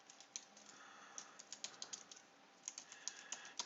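Quick bursts of computer keyboard typing, close and faint, with irregular key clicks and short pauses as a command is entered at a terminal on a Raspberry Pi, no speech.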